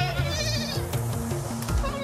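Goats bleat repeatedly in the argan-tree countryside of southern Morocco, several overlapping voices close by with a steady wavering cry throughout.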